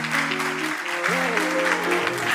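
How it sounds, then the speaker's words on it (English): An audience at a Redeemed Christian Church of God camp chapel applauds to welcome a speaker, with a broad wash of clapping running beneath sustained tonal voices or music. "with a standing ovation and a round of applause, a resounding one at that."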